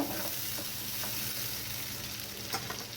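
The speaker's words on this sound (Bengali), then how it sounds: "মশলাটা দিয়ে একটু নেড়ে নিচ্ছি" Spice paste fries in hot oil for a pomfret curry while a spoon stirs it, a steady near sizzle with soft scraping strokes and one sharper scrape near the end.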